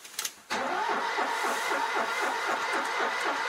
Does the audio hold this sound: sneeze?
no